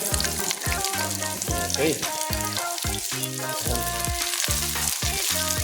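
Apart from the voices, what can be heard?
onions frying in pan after garlic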